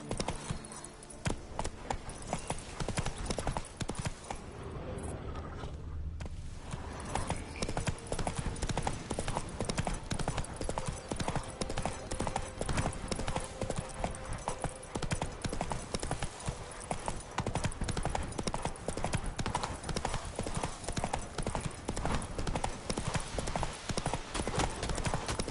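A horse gallops in The Witcher 3, and its hooves strike in a fast, continuous clip-clop rhythm that is loud and close for the whole stretch, with only a short break early on.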